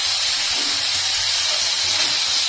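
Mung dal, nuts, grated ginger and garlic frying in a pan, a steady close sizzling hiss that holds evenly throughout with no talk.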